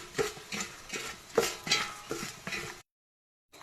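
A salad is tossed with salt, vinegar and coconut oil, making a series of close, rhythmic stirring and clinking strokes in a bowl, then a sudden silence near the end.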